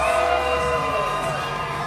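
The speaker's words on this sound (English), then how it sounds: "It's a massive pop from the crowd." A crowd at an Island Fights fight event lets out a sustained roar of cheering and whoops, loud and close, holding steady across the whole stretch.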